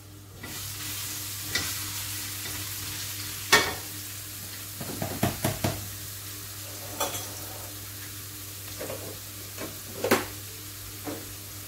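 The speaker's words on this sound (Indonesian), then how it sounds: "Jadi di sini panaskan dulu minyak zaitun." Olive oil heating in a pan for spaghetti meatballs, giving a soft continuous sizzle with occasional sharper crackles and pops scattered through, fairly quiet and close with no talking.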